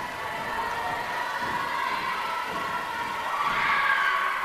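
A basketball crowd at a men's college game, CNCC versus CSI, roars and cheers steadily during free throws, a dense sustained wash of voices that swells slightly near the end, with no clear talk over it.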